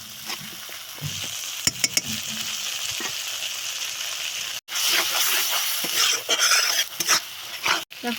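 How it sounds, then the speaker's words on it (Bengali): Spice masala with water and cumin powder sizzling and frying in a pan for a Bengali-style potol chingri recipe, with a steady close crackle, stirring scrapes and a few brief clatters of the utensil. "এরপর সামান্য জল দিয়ে আমরা ভালোভাবে কষিয়ে নেব মশলাগুলোকে।"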